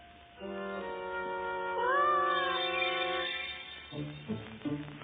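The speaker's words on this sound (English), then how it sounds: "What is that cat doing in my guillotine?" A cartoon Cheshire Cat gives a drawn-out, rising and falling meow, clear and close, followed by brief voice-like sounds at the end.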